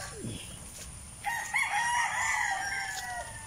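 A rooster crows loudly and long in a small backyard coop with rain-exposed chickens, its drawn-out call rising over faint clucking and a brief bird chirp at the start.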